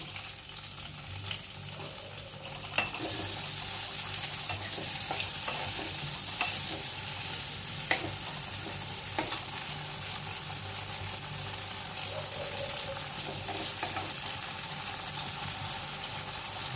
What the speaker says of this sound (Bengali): আমি এবার এই তেলেই দিয়ে দিচ্ছি এই টুকরো টুকরো করে কাটা টমেটোগুলো।